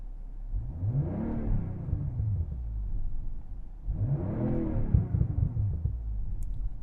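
Inside a 2023 BMW M340i with iconic sounds on, two moderate engine rev swells rise and fall, each trailing off into faint low pops under a steady cabin rumble.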